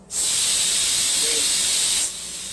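A laser cleaner burns WD-40 and rust off a metal surface, giving a close, loud, even hiss that starts abruptly, holds for about two seconds, then stops, leaving faint background noise.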